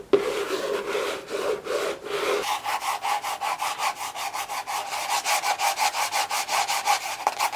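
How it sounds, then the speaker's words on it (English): A book is scraped for ASMR with close, steady, rhythmic rasping strokes, dry and papery, that grow brighter and quicker in the second half, with no talking. "the sound that is produced as a result of scrapping this book"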